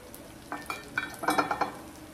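Fish balls tossed into a hot pan, stirred and frying, with a soft sizzle under several scraping strokes of a spatula that grow busier toward the middle, close and without talk.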